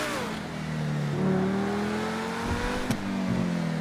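A video game car revs and accelerates, the engine note rising, briefly dipping and climbing again, with a small click near the end, steady and close with no talking.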